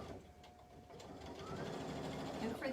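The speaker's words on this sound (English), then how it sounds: "I'm going to sew on the diagonal lines" A sewing machine stitches diagonal darts into a fabric hot bowl cozy, running in one steady, continuous whir that builds slightly toward the end, close up and without any voices.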